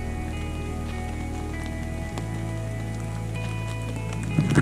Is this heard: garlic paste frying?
no